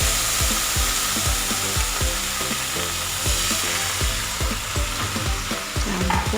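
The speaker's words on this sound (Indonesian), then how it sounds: "Ini kita goreng lauknya dulu ya" Egg fried as a side dish in a pan with little oil makes a loud, close, continuous sizzle, with a steady crackle of popping bursts and no talk.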